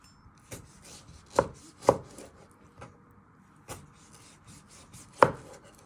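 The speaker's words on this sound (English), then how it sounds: "And then you just want to chop them into little pieces." A knife chops food into small pieces on a board, with scattered crisp thuds at an uneven pace, a few louder strikes among softer ones, close and clear with no talk.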